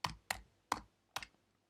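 Four separate clicks from a computer keyboard, spaced unevenly about a third of a second apart, each a sharp close tap with a short decay, with no one speaking.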